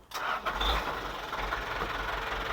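A used car at an auction lot in Palembang cranks and fires up close by, then settles straight into a steady, smooth idle.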